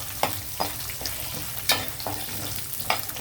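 Cumin, mustard seeds and dried red chillies sizzle in hot oil in a pan, a close, steady hiss broken by several sharp pops and spatters, with no talking.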